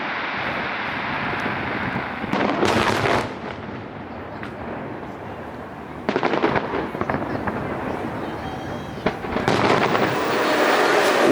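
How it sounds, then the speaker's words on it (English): Fireworks booming in an outdoor city setting in Abu Dhabi, with loud bursts of blasts around the three-, six- and ten-second marks over constant broadband rumble and wind. "I have no idea why there's fireworks"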